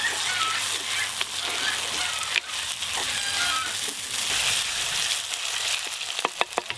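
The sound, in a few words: ginger-garlic paste and onion frying in a pan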